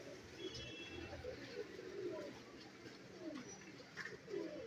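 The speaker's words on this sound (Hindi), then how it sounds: "ये देखें ये ली वाले कबूतर हैं" Faint, steady cooing from a group of 'Ali wale' pigeons fills Raja Pigeon shop in Rawalpindi, a low background murmur with occasional light voice sounds.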